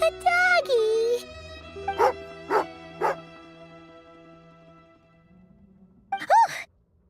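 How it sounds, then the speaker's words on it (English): A dog in the video game Genshin Impact gives short, sharp angry barks and whimpers, three quick bursts in a row and then one more after a pause, close and fairly loud alongside game sounds. "Oh, angry doggy."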